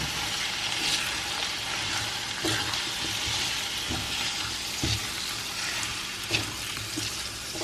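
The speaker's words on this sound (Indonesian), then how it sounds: "Lalu kita tumis dagingnya." Beef sautés in a pan with spice paste for rawon, a dense continuous sizzle close by, broken by occasional stirring scrapes and knocks, with no voices.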